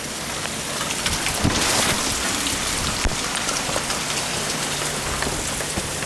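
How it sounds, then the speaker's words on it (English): Steady, heavy rain pours down outside, a dense continuous hiss with scattered louder drops and no voices. "Fucking raining out."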